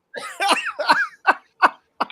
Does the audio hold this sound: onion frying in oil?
no